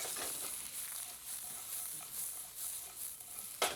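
Pressed bean curd and green onion stir-fried in a pan, a close, even hiss of sizzling oil with a few soft stirring scrapes and a louder clatter at the very end, no talking.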